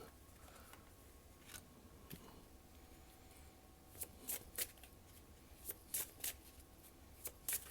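Tarot cards are shuffled and drawn close by but faintly, with soft riffling at first, then a string of crisp snapping card flicks in quick bursts toward the end, with no talk.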